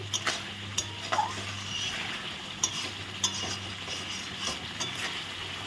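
Spices sautéing in a pan for a spicy Bengali brinjal (begun) jhal, a soft continuous sizzle with sharp spatula scrapes and clicks against the pan at irregular moments, close and without talk.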